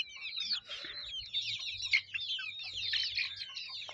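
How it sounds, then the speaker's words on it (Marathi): Many free-range country chickens cluck and chirp busily together, a dense, continuous chatter of fowl close by with occasional louder squawks. "बघा क्वालिटी बघा कोंबड्याची, आपले प्युअर गावठी कोंबडे आहेत"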